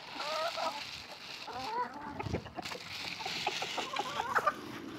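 Farmyard chickens and geese cluck and call in short, repeated bursts at a moderate distance, with layered squawks over a soft background and no talk.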